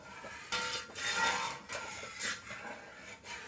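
Thickening beetroot lehyam is stirred in a pan, giving soft, uneven scraping and rubbing sweeps that come in several close, fairly quiet bursts, with no voices.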